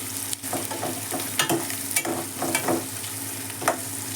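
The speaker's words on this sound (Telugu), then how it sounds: "అల్లం తురుము 1 స్పూను, కొద్దిగా వేగాలి." Grated ginger fries in a pan of sizzling oil for an Indian okra stir-fry, giving a constant crackle with scattered sharp pops and the occasional scrape of stirring, heard close and without talk.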